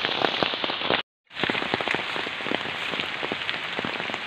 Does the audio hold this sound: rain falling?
yes